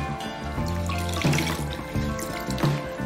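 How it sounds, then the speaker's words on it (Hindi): Water drips and trickles as a soaked cloth is gently squeezed out over a bowl, a few splashy pulses of wringing over a steady wet background, close and moderately loud. "अब जब ये पूरी तरह डिप हो जाए तो उसको हल्के हाथों से निचोड़ करके, थोड़ा थोड़ा पानी इसके अंदर रह जाए"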